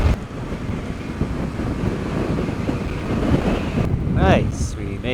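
Steady wind buffets the microphone with a continuous low rumble during a Yamaha Ténéré 700 motorcycle ride between Prince Edward Island and New Brunswick, and a voice briefly speaks near the end.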